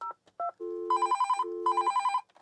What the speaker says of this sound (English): if we pick up line 1, dial 102, this phone will ring.